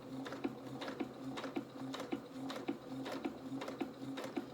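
A sewing machine stitches fabric in a quiet, steady run of rapid rhythmic clicks, each needle stroke evenly spaced across the clip with no talking.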